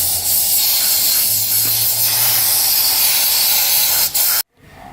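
A continuous loud hiss of degreaser spraying from a can onto a limited slip differential, steady for about four seconds before cutting off abruptly, alone with no talk.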